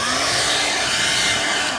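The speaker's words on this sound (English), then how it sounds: "So I'm going to take my blow dryer now" Blow dryer on a cool setting drying wig glue, a loud continuous close whoosh of blowing air with a steady motor hum and no talking.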